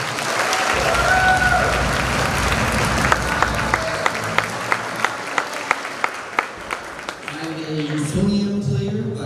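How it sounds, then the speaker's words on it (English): Audience applause at a school band concert honoring a bass trombone player, a sustained crowd wash with a rhythmic run of distinct claps in the middle and voices emerging near the end. "So give him a big round of applause."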